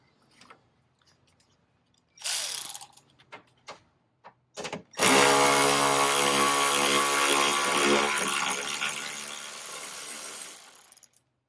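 Power tool removing screws from a Ford F150 headlight, preceded by a few small clicks and handling knocks, then a loud close whirring run of about six seconds that slowly tapers before stopping.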